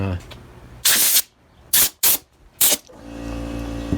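Four short sharp spritzes from a spray bottle wetting sandpaper clogged with grit during hand sanding, each a bright hissing burst with pauses between, close and loud.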